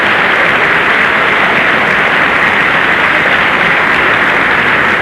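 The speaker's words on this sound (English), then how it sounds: "they are contributing mightily to the applause." Crowd applause fills an armory on election night 1960, a dense, steady roar of clapping that stays loud and continuous throughout with no gaps.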